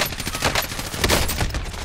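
Dense gunfire in Call of Duty Warzone, a continuous rattle of automatic bursts and overlapping shots, loud and close, with no pause across the stretch.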